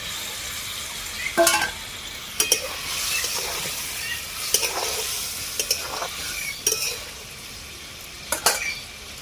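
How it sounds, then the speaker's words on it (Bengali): Paneer cubes tossed into a frying cashew masala and stirred with a metal spatula, giving several separate scraping clinks against the pan over a steady low sizzle, close and with no talking. "এবারে আমি পনিরগুলো দিয়ে দিই"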